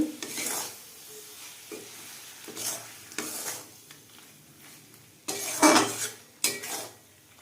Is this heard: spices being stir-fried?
yes